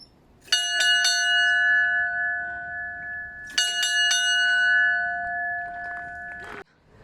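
A summit bell on Šmarna Gora near Ljubljana, Slovenia, is struck twice, each ring a bright clang followed by a long sustained ringing tone that decays slowly, the second strike about three seconds after the first, close and clear.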